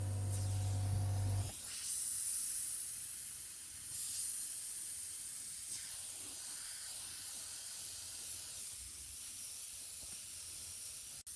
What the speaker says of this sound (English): holding the airbrush far away from the surface